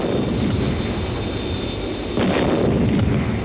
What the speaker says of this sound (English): They may try ground-to-air missiles.